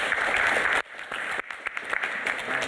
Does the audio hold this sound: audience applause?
yes